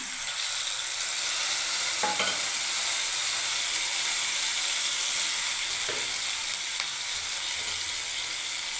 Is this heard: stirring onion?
yes